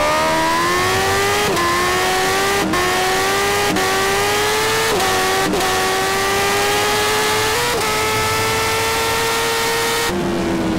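A BMW S1000RR motorcycle in GTA revs hard through repeated upshifts, its engine pitch climbing, dropping at each gear change and rising again, loud and close throughout.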